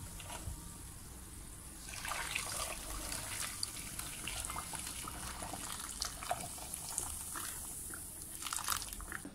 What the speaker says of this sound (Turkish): Şimdi de üzerine geçene kadar sıcak su dolduracağım.